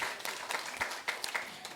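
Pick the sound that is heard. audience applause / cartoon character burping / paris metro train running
audience applause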